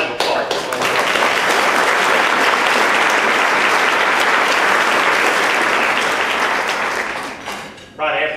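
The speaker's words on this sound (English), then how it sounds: "So, round of applause." An audience at a Camp Fire keynote gives sustained, dense applause that rises quickly, holds strong for several seconds, then tapers off before a voice returns.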